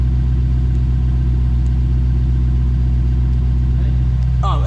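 A Lexus RC-F with a PowerFlow custom valvetronic stainless exhaust, valves closed, holds a deep steady idle rumble close by, and a brief rev rises at the end.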